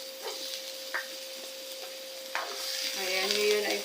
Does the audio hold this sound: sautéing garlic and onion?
yes